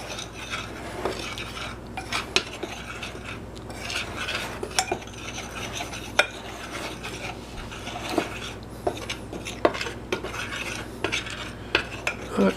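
White flour batter for fruit cobbler stirred in a bowl, a spoon scraping and clinking against the sides in irregular close strokes with occasional sharper taps, no talking.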